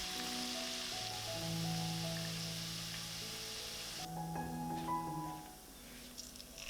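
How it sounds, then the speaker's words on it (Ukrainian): Garlic sizzles steadily in hot oil and chicken fat left from frying chicken skin, a dense, continuous crackle close by with a soft sustained tone running underneath. "І прямо у цей жир та олію, де смажила скурка, висипаємо часник."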